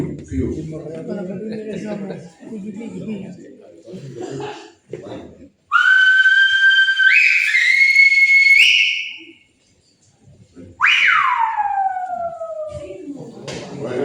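Speech gives way to long, piercing whistles with rising and falling pitch glides, a whistled exchange in Silbo Gomero, the whistled language of La Gomera, ringing out loud and clear, followed by more talk.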